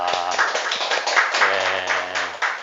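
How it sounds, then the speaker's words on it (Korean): Audience at a discipleship training lecture applauding in welcome, quick uneven hand claps from a modest group, steady and close, lasting a few seconds. "우리 서로 향해서 환영의 박수 하겠습니다."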